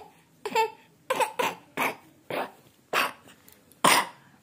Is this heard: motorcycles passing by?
no